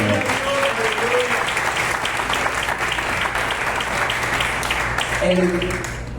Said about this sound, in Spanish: ¿Cuántos pueden aplaudir nuevamente al Señor?